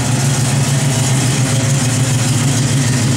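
A 1971 Chevrolet Nova engine idles steadily up close, a low continuous rumble with a faint even throb, no revving and no voices.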